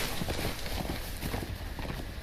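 Horse hooves clip-clop in a steady, fairly brisk rhythm within a Game of Thrones video game, continuous and close, set over a dense ambient wash with no talking.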